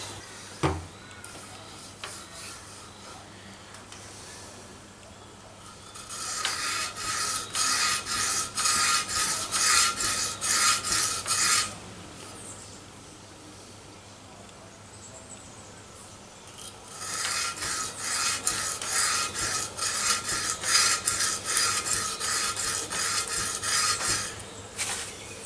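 An old paring knife is stroked across a terracotta surface for sharpening, two long bursts of rhythmic gritty scraping separated by quiet pauses, fairly close and without talk.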